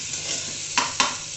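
Onions and tomatoes sizzling in a pan over a high flame, a steady, close hiss with two quick spatula scrapes in the middle of the brief stretch.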